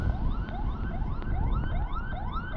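An ambulance siren wails nearby in a rapid, repeating rising yelp, loud and continuous over low road rumble.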